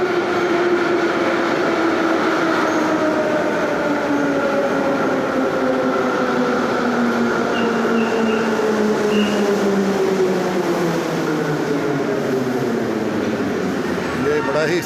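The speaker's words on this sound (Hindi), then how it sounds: "इस तरह आप ये देखें, ट्रेन आ गई।" A metro train arrives at a Tashkent station with a steady heavy rumble and falling tonal whine as it slows, loud and continuous throughout.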